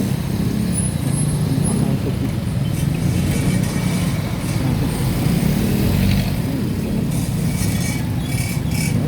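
Steady road traffic with jeeps and cars on a congested Philippine street, a continuous near engine drone and hiss throughout, with no clear talk over it.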